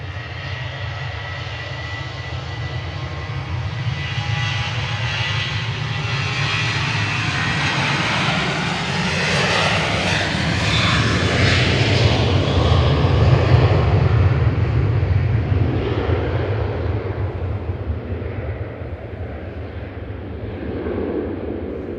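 A Ryanair Boeing 737-800 jet departs, its engine roar building into a loud, steady rumble that peaks midway and slowly fades as the aircraft climbs away.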